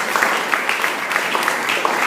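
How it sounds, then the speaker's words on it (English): Applause from a lecture audience at an entrepreneurship event: a steady, dense patter of many hands clapping at even loudness throughout, with no voices over it. "Please give them a round of applause."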